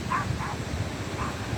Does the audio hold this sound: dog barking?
yes